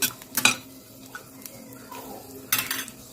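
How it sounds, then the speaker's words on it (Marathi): Garlic cloves, ten to fifteen of them, tossed into a pan for curry leaf chutney, landing with a few sharp clatters against the metal, followed by faint sizzling and occasional scraping, close and alone. "आता मी टाकून घेत आहे लसणच्या दहा पंधरा पाक्या"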